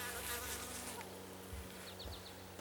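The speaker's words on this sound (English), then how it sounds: "And there's a good amount of bees up there." Honey bees in a beehive lid drone in a continuous, fairly close buzz, with individual bees' wingbeats rising and falling over the steady hum.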